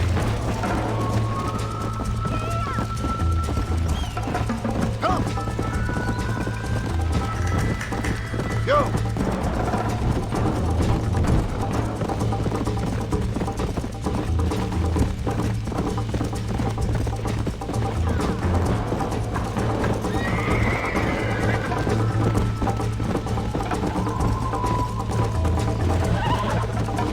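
Horse hooves galloping with occasional whinnies in the Red Dead Redemption video game during a race, layered over continuous game music and low engine-like drone, with speech heard at times.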